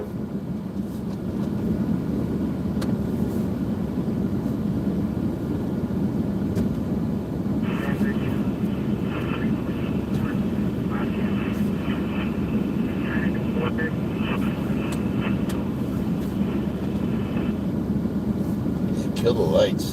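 Aircraft flying over the Line Fire wildfire near Highway 38 give a steady, loud engine drone that fills the whole stretch, with radio-style voices talking over it.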